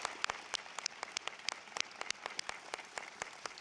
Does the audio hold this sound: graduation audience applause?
yes